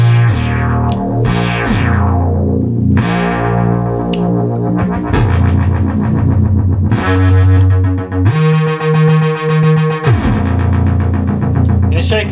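Minimoog synthesizer with its second oscillator detuned slightly from the first, playing loud, buzzy sustained bass-heavy notes in a sequence with a faint wavering beat, no talk.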